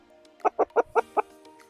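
Chickens of various breeds on a small farm, five quick, evenly spaced clucks close by over a faint background hum.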